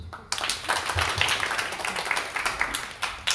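Congregation clapping during a Korean church New Year thanksgiving service, a dense burst of applause with rapid overlapping hand claps that starts sharply and continues steadily at moderate loudness.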